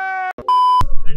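A mobile phone ringtone plays nearby at a kite-flying gathering: a bright, steady electronic melody of sustained tones with a brief gap, followed by a rising tone and mixed background noise.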